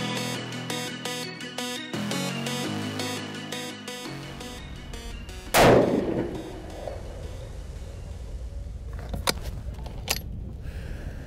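A 6mm Creedmoor rifle loaded with Lapua brass and Berger 105 bullets fires a single loud, sharp report at an outdoor range. Music plays beforehand, and a few faint mechanical clicks follow the shot.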